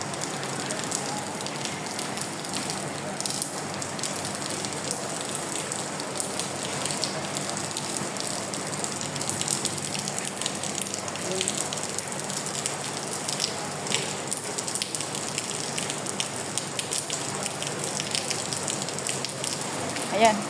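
Steady rain falls in a continuous dense hiss for about twenty seconds, even and unbroken, with a few faint scattered patters and no voices.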